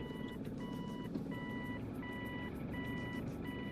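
A car's reversing alarm beeps steadily, about six evenly spaced electronic tones over a constant low engine rumble, close and clear.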